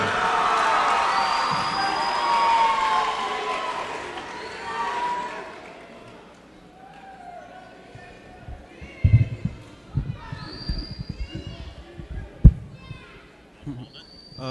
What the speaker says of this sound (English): let's hear a big round of applause for Keith Kim